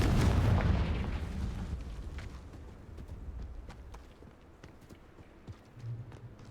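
A Confringo fire spell in Hogwarts Legacy bursts with a loud low boom at the start, then fades into a rumbling tail with scattered faint crackles and a small thud near the end.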